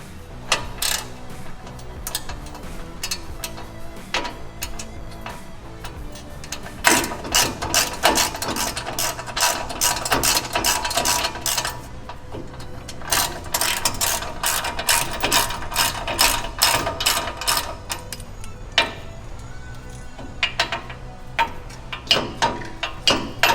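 Ratchet wrench tightening Fox coilover bolts on a lifted 2015 Ford F-150, close and clear with dense rapid clicking bursts and short pauses between strokes.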